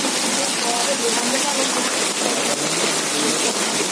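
Hail and heavy rain pour down steadily in a village, a dense, continuous close-up patter on surfaces with faint voices beneath.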